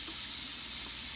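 Water runs steadily from a kitchen faucet, a continuous close hiss of flow into the sink with no pauses.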